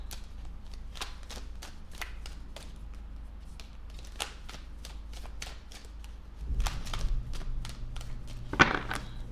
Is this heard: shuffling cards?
yes